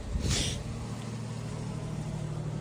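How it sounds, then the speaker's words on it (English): Toyota Sienna minivan engine running smoothly at a fast idle just after starting cold with a new ignition coil, a steady low hum throughout with a brief hiss near the start. "Car's running smooth."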